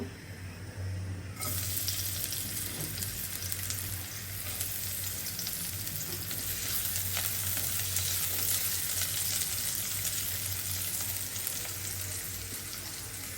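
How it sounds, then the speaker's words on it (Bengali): Chopped onions fry in oil in a pan while a fish and radish dish is being cooked, giving a steady, close, even sizzle that holds for the whole stretch with no talking. "এখানে তেল দিয়ে দিছি, পেঁয়াজ কুচি দিয়ে দিব।"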